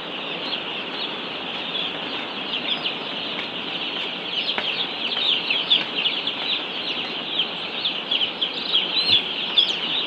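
Many young broiler chicks chirping and clucking together in a continuous high-pitched chorus, steady and close, with no talking.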